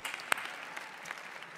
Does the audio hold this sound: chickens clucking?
no